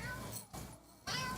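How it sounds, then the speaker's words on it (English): A pet cat meows nearby in short, slightly drawn-out calls, two or three of them separated by brief pauses, with faint room noise in the background. "Don't know if you guys could hear my cats."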